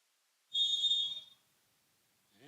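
A referee's whistle before a serve in a college volleyball match: one short, fairly faint blast, then near silence.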